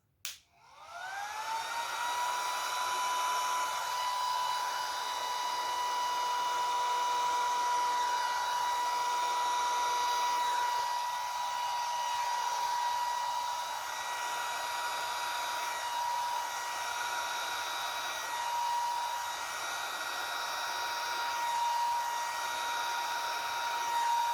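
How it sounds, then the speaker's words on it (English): A blower runs continuously with a steady, high whine, pushing poured paint outward into petal shapes for a bloom-style pour painting; the pitch holds nearly constant with slight wavering throughout, and no one speaks. "let's use the blower to blow the petals"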